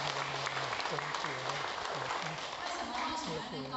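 An audience at a talk in a Buddhist hall applauds in a brief round of clapping, with a voice speaking over it and some crowd chatter.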